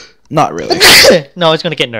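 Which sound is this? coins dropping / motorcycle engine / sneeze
sneeze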